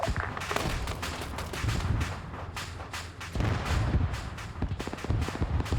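Gunfire in the military game Arma 3, rapid bursts of close shots and heavier booming reports crackling continuously, dense and loud with no talking.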